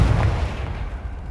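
A Confringo fire spell bursts in Hogwarts Legacy, a deep booming explosion with heavy low rumble that swells at the start and rolls off over about a second.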